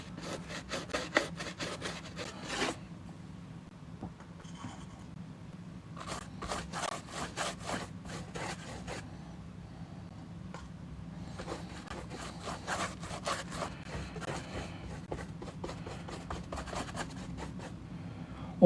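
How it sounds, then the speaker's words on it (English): Brush strokes of paint being applied to cork come as repeated dry scratchy rubbing bursts in clusters over a low steady hum, quiet and close. "So obviously I'm painting cork"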